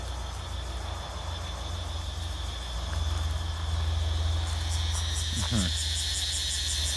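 A steady, shrill drone of cicadas singing in a garden fills the background, with a brief rasping burst partway through and a low hum underneath.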